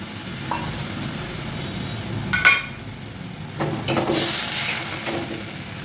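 Curry broth with coriander-leaf water bubbles and sizzles in a pan, a steady close hiss broken by a few brief clinks and stirring scrapes, with no talking.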